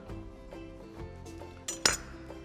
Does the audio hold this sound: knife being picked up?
yes